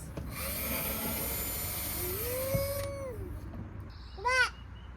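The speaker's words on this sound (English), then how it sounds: "Drill." A power drill whirs steadily for nearly three seconds, then stops; a voice and babbling follow nearby.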